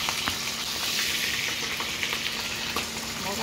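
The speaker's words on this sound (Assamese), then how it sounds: "এতিয়া তেল দিছোঁ, শুকান জলকীয়া দিছোঁ, ইয়াৰ পিছত পিঁয়াজ দিছোঁ, কেঁচা জলকীয়া কাটি দিছোঁ। এতিয়া লৰাই দিছোঁ।" Dried chilies and onion frying in hot oil, a steady close sizzle with light crackles and pops throughout, no voices.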